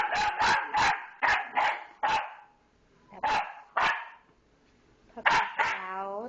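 A boxer puppy barks loudly in quick bursts, several sharp yaps in a row, a pause, then more barks trailing into a whiny whimper.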